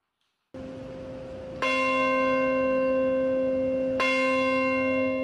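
The Bell of Hope at St. Paul's Chapel, New York, rings out at 8:46 on the September 11 anniversary with a rich, sustained tone, struck twice more so the strokes overlap and hum on without any voices.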